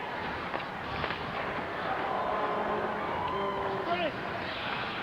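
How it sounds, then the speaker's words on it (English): A Saddledome hockey crowd applauds and cheers as the Calgary Hitmen kill off a Kootenay Ice power play in a WHL game, a broad, steady arena roar beneath a commentator's talk. "a big hand here from the Saddledome crowd as the Hitmen kill out the first power play opportunity of the hockey game"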